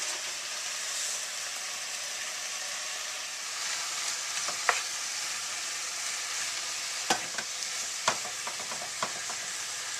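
Beef sizzles steadily in a hot pan with cabbage for Tibetan shaptse, a continuous frying hiss with a few sharp pops and spatters scattered through the latter half, no voices.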